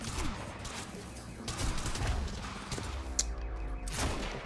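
Dense bursts of gunfire in the video game Quantum Break crackle continuously, a rapid sustained volley at moderate loudness with a sharper shot near the end.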